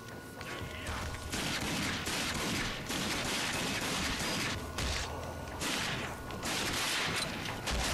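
Pistol gunfire in the video game Rage, a rapid, dense stream of loud shots with brief gaps throughout, with game effects layered in.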